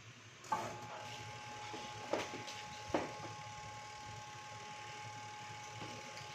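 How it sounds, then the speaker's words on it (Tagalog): A washing machine's spin motor that won't turn hums weakly and steadily, with a few sharp mechanical clicks scattered over the low drone. "Ayaw umikot yung kanyang motor. Umuugong lang, pero mahina yung kanyang ugong."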